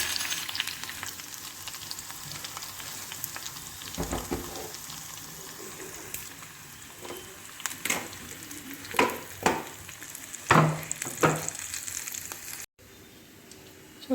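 A tempering for a leafy-greens sour curry fries in a pan, a continuous sizzle and crackle with a spoon stirring and scraping, and sharper metallic clacks as the spoon strikes the pan.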